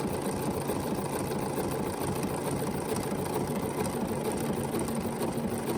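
A BERNINA jumbo-bobbin sewing machine stitches steadily, with a continuous even mechanical whir that holds at a constant speed throughout.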